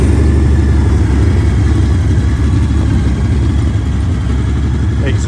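A Honda Valkyrie Rune NRX1800 motorcycle engine runs at a steady, loud low idle, its deep rumble filling the whole stretch without voices on top.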